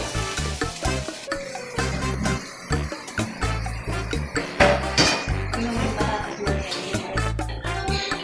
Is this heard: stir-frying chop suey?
yes